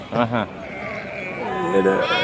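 A sheep at the Gudur livestock market bleats in two quick wavering cries up close, followed by a longer, drawn-out bleat.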